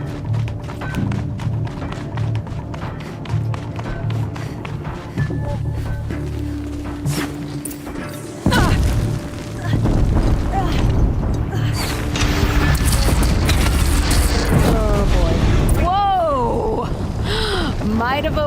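A bridge shot down in Horizon Zero Dawn gives heavy thunks and creaking groans, then a loud, sustained rumbling collapse with crashing debris, under a dense game soundtrack and voices.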